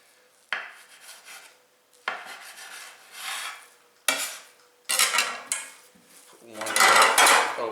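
A bench scraper cuts through brioche dough on a work surface, giving a series of separate scraping and tapping contacts. They come close and crisp, and each one is followed by a short rasp.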